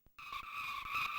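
Tyre screech in the Amiga game Formula One Grand Prix, a sharp synthetic squeal with bright tones starting abruptly and holding steady for about a second, loud and alone.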